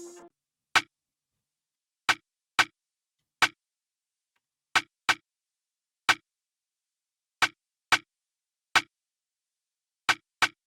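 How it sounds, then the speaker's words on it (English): Sparse, crisp rim shot clicks in a syncopated trap-style pattern, dry and isolated with silence between hits, repeating a simple groove. "The next thing I went to was, of course, the rim shot."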